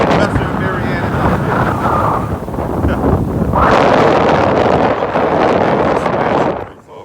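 Strong wind at Pompano Beach buffets the microphone in a continuous loud roar, with surf rushing faintly underneath, easing off only at the very end.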